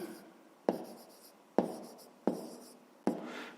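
Four short sharp taps of a pen on paper, each trailing into a brief scratching stroke, spaced evenly while working math exercises, close and clear with no voices.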